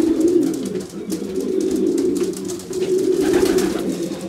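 Pigeons in an aviary in steady rain, coo after coo rolling in close and loud with soft wing shuffles and chirps around them, over a continuous hiss of rainfall.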